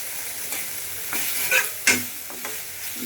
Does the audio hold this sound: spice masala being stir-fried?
yes